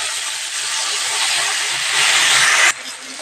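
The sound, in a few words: chopped tomatoes added to frying ginger, sizzling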